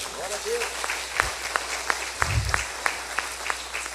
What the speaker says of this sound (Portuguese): Aplaude a Deus, aplaude.